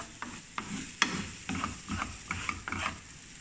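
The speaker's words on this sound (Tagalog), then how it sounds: "Halo-haloin lang natin mabuti lahat." A spoon stirring ingredients in olive oil in a pan, a soft sizzle broken by a series of irregular scraping and clinking strokes, close and fairly quiet.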